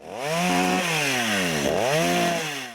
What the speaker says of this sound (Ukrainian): Вінничанин Володимир працює бензопилою, аби розчистити чагарники.